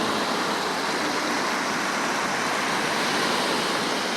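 Steady, broadband roar of waves rolling onto Gwangalli beach during rain, a dense continuous wash of surf and rainfall with no voices.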